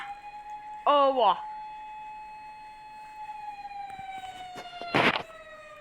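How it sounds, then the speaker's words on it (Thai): A police car siren sounds briefly in a Thai street scene, a short rising-falling wail up close that stops after a moment. A steady tone continues under it, and a voice speaks right after. "อ้าวเฮ้ยรถตำรวจมาได้ไงวะ"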